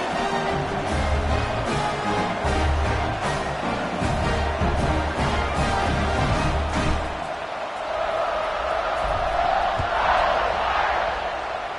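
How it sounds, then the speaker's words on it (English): A large football stadium crowd roars and buzzes loudly after a score in a college game between UCF and Notre Dame, a dense wall of cheering that eases slightly toward the end with scattered shouts. "this crowd is buzzing after that last score"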